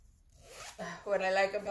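A zipper on a coin bag's side compartment is drawn open in one short, close rasping pull, starting faint and growing louder.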